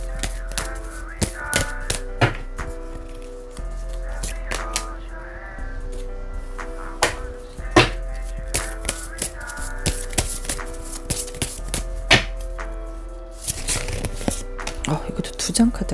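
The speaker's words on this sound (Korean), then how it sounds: "카드 여러 장 뽑아보고" Tarot cards are shuffled and drawn in a series of crisp, repeated card snaps and flicks, with soft background music underneath and a brief burst of busier shuffling near the end.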